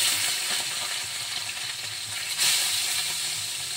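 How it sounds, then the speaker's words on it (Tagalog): Latoy fish fries in hot oil in a pan, a dense, steady sizzle and crackle close by that swells briefly about midway, with no voices over it. "mainit na ho ang ating mantika. Pinirito ang latoy."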